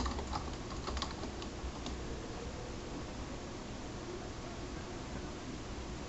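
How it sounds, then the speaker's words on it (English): Typing on a computer keyboard: a short run of close, quick key clicks in the first two seconds, then only a steady background hiss for the rest of the clip, with no voices. "I'm going to type in computer."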